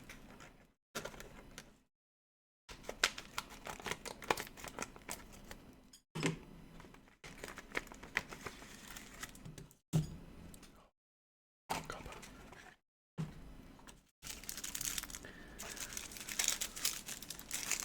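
Crinkling and rustling vacuum-packed plastic in bursts separated by short silences, close to the mic, like a stiff package being pulled open.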